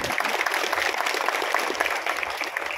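An audience at a Marathi shahir performance claps steadily and densely, a broad sustained wash of applause throughout.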